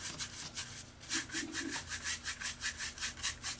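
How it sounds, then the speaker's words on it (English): A paintbrush scrubs wet pink and blue paint across canvas in quick rhythmic strokes, about a dozen rasping scrubs close up with no talking. "I'm almost scrubbing because I'm removing some of that wet blue that I have there into my pink."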